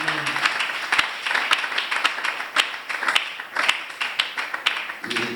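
A church congregation claps in acclaim of the Lord, with dense rhythmic applause from many hands filling the room and a few voices faintly underneath.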